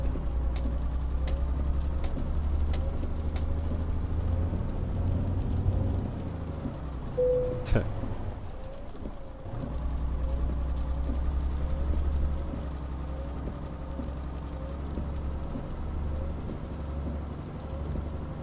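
Tractor-trailer truck engine in Euro Truck Simulator 2, a steady low rumble running throughout with a brief sharp click midway and a short dip in the drone.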